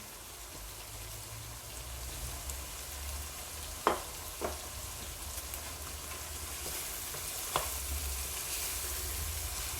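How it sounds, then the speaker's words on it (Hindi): Finely chopped tomatoes hit frying masala in a pan, giving a soft, continuous sizzle with a few sharp clicks of spoon on pan. "अब हम इसमें बारीक चॉप किए हुए टमाटर डाल देंगे।"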